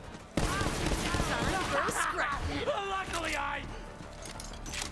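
Video game gunfire from Borderlands 3 crackles in a dense, continuous volley beneath loud, overlapping voices talking throughout.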